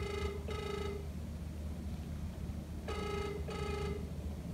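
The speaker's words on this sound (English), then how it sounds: "Ringing." Telephone ringing on an outgoing call: two double-ring bursts separated by a pause of about two seconds, clear and steady over a faint hiss, with no talking.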